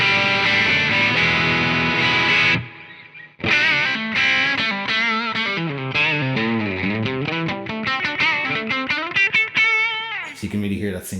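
Epiphone Les Paul Jr electric guitar with a single-coil bridge pickup, played through a Fulltone GT500 distortion pedal: a loud, saturated riff with sustained chords, then a brief pause and a bending melodic lead line.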